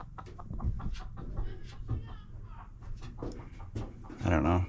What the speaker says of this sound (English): There's a hen on top of the roof.